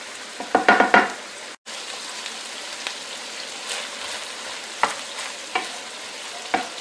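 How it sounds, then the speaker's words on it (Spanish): Bell pepper fries in a pan for Peruvian arroz chaufa, giving a soft steady sizzle with a brief burst of stirring clatter near the start and scattered light pops and ticks afterward. "Vamos a dejar ahí aproximadamente por unos 3 minutos para que el pimiento se haga"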